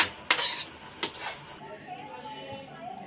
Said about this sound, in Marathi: मी आता तुम्हाला एका प्लेटमध्ये मांडून दाखवतो कशी बनली